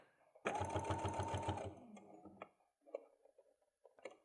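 Sewing machine stitching a fabric pencil case runs in one loud, fast burst of rapid stitches, then stops, followed by a few quieter handling clicks and brief spoken remarks.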